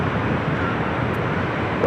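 A jet airliner taking off from runway 24 Left at LAX, a steady broadband engine roar held at constant loudness throughout with no voices.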